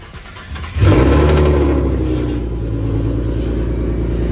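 A Ford Mustang engine cranks on a cold start and fires up, then settles into a loud, steady idle with a deep rumble, close by and alone.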